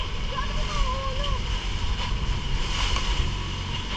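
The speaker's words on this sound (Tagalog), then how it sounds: "Look at the alon. Look at the waves." Sea waves wash in a continuous roar with wind buffeting the microphone, a low rumbling surf bed under faint distant voices.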